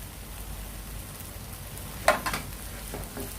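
Tomatoes frying in a pan for chutney produce a soft, steady sizzle with a brief sharp clatter and a few scraping stirs midway, fairly quiet, with no speech.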